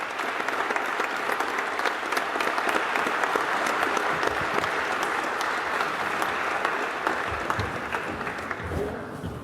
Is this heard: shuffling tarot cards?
no